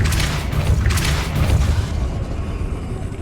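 A Depulso spell is cast in Hogwarts Legacy, a loud booming blast with a crackling burst that fades over a few seconds.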